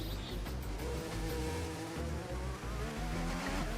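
Video game Formula 1 race car engine, loud and continuous with a steady high-revving drone and shifting pitch throughout, no speech over it.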